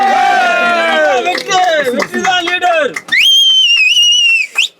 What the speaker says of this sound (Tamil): தம்பி விசில் அடிக்க வேணாம்ப்பா.